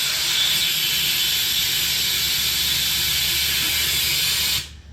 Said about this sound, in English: About the fastest you can push air in with an air compressor is to get rid of the valve stem and use one of these